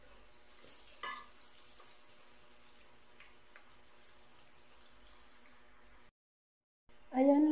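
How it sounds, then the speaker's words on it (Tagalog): Sliced eggplant pieces sizzle steadily in hot oil in a pan, a soft continuous hiss with occasional faint pops and clicks, dropping out briefly near the end before a louder burst returns. "Isasalang ko na at prituhin ko na tong mga talong."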